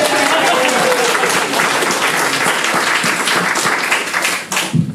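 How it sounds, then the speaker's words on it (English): An audience at a school board meeting claps loudly and steadily, with some cheering voices mixed in, before the applause fades toward the end. "You can clap."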